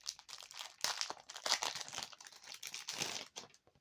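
Gift wrapping paper being crumpled and torn as a present is opened, a close, busy run of crinkling and rustling bursts that rise and fall for several seconds with no talking.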